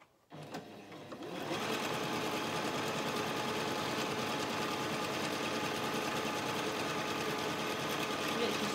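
A sewing machine stitches along the seam of a petal dress, starting after a brief quiet moment and then running in a fast, steady mechanical whir that stays close and constant to the end.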